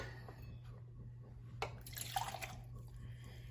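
Vinegar is poured into a bowl in a kitchen while preparing pupusas: a short, splashy trickle of liquid with a few drips, over a low steady hum.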